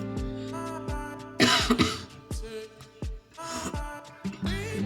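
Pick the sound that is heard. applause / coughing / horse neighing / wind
coughing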